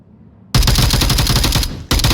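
Rapid automatic gunfire in a VR multiplayer match, a loud sustained burst of close shots that breaks off briefly and then resumes.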